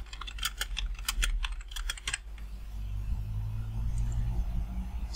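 A rapid burst of close computer-keyboard clicks fills the first two seconds, then gives way to a low steady hum.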